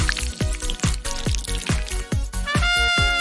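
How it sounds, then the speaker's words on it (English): Liquid pours into a pink elephant-shaped cup made with a 3D pen, heard as a quick series of rhythmic bubbling glugs, close and clear, with no talking. "Pour in something to drink and enjoy."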